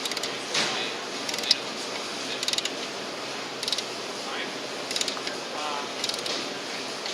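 Click-type torque wrench ratcheting as it tightens an alternator bolt on a car, giving light repeated clicks in short bursts over steady background noise, fairly close.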